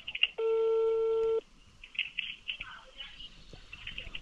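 A phone line tone sounds as an emergency call is transferred to local police in Bijie, Guizhou, one steady beep about a second long, followed by faint chirping line noise and murmuring.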